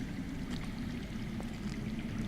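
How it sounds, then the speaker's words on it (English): Underground water flowing in the video game Game of Thrones, heard as a steady, low rushing wash with a faint trickling texture, continuous and fairly quiet with no voices. "That's water. I hear water. From underground."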